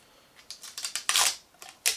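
Protective plastic film comes off an Asus Dual Fan RTX 3070 graphics card in a series of crisp, crackling tearing bursts that grow louder and end in a sharp final rip, heard close up with no voices.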